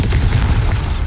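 A Bombarda blasting spell from Hogwarts Legacy erupts as a deep, loud, rumbling boom that holds steady and close throughout, with no talking over it.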